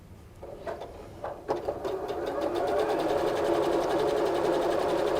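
A sewing machine stitches quilt block pieces together, starting with a few clicks and handling sounds before settling into a steady, close, rapid mechanical whirr that builds and holds.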